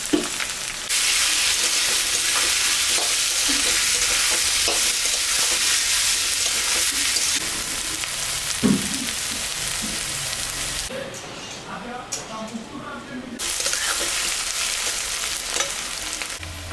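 Onion, ginger, garlic and chopped chili frying in a pan, a steady close sizzle with occasional stirring scrapes, briefly quieter partway through before the crackle resumes.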